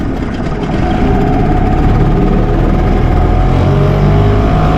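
A Hangkai outboard motor running at full throttle roars loudly and steadily throughout, a dense continuous engine drone close by with a slight rise in level after the first second.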